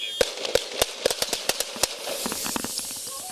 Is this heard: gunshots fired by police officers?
yes